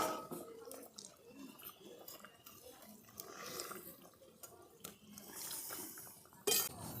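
Fried river fish (phalui) go into a simmering light fish curry with ground fennel, bringing close clinks of a utensil against the pot over a soft bubbling, watery sizzle.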